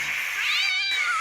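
A cartoon cat gives one drawn-out, rising and falling meow lasting about a second, close and clear with no talk over it.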